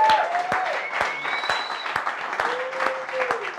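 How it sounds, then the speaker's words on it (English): An audience at a coding bootcamp demo day in Bali claps for two organizers, steady applause with a few louder sharp claps and scattered whoops over it. "So a big applause for Audrey and Dirk."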